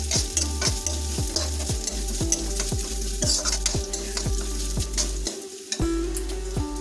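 Rice with about four tablespoons of grated coconut being stirred and fried in a wok, a steady sizzle under repeated scraping strokes of the spoon against the pan, close and continuous.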